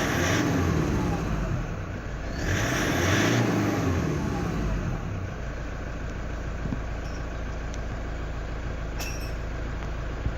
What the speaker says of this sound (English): I'll give it a rev just to change these scales up.